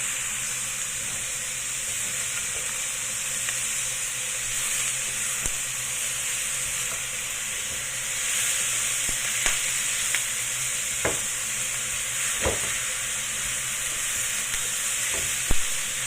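Ground pork fries in a wok with a steady, close sizzling hiss, while a utensil stirs and scrapes through the meat in occasional sharp clatters; no voices are heard.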